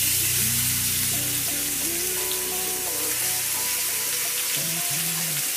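Steak sears in hot oil in a pan with a loud, steady, close sizzle that never lets up, while faint tones hum underneath.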